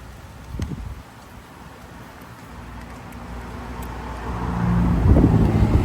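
Car traffic passing along a roadside in rural Thailand, a steady broadband rumble that swells louder toward the end as a vehicle nears, with wind and rustling mixed in.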